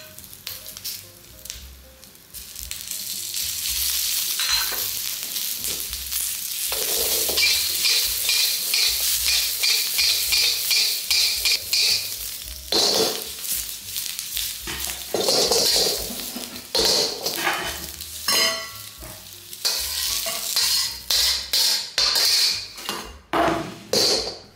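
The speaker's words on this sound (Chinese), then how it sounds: "全部都一起下锅煸炒" Aromatics stir-fried together in a wok sizzle steadily while a metal spatula scrapes and clatters against the pan in quick, irregular strokes, close and fairly loud, with no one talking.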